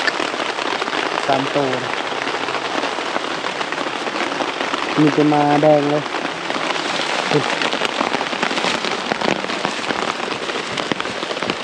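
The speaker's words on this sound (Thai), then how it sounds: "ทางนี้นะฝนตกตลอดเลย" Heavy rain falls steadily as a dense, loud, continuous hiss in a rural outdoor setting, with brief voices talking underneath.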